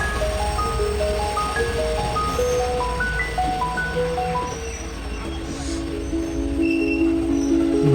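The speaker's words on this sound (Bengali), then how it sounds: "তো দেখতে পাচ্ছেন ট্রেন আয়া পড়ছে" A local passenger train pulls into Abhayapuri railway station in Assam, a steady rumble and rolling clatter holding throughout over a busy platform din, with tonal squeals or horn-like pitches and crowd noise growing slightly louder toward the end.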